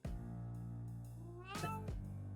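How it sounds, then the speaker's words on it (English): A cat meows in a visual novel, a single clear drawn-out meow near the end, heard alone over a soft, steady music bed. "Is that a meow? Wait, you have a cat?"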